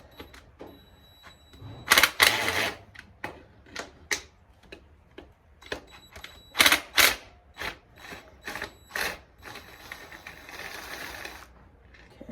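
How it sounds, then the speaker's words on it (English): A wrench ratcheting on a bolt of a Kawasaki KX100 dirt bike engine, close clicking bursts in uneven runs with pauses, plus metallic knocks and handling noise, no talk. "there's a bolt right there that we're gonna loosen up"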